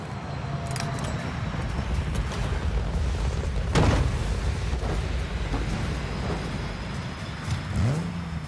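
Razorback vehicle from Halo Infinite driving with a steady loud engine rumble throughout, a heavier thump midway and a rising rev near the end.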